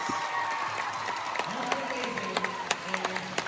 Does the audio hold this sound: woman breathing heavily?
no